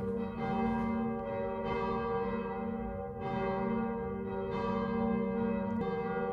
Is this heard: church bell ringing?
yes